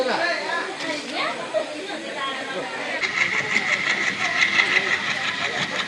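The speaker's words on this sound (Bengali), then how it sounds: "হ্যামিল্টনগঞ্জ থেকে ছেড়ে দিয়েছে" A train pulls out of Hamiltonganj station at night, a continuous rumble with rhythmic rail clatter building after the first few seconds, while someone talks over the noise.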